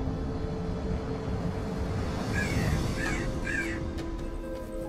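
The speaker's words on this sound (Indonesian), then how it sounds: "Burung gagak. Ini suara burung gagak." Crow on a house roof giving three harsh caws in quick succession, moderately near, over a steady background hum, with no talking.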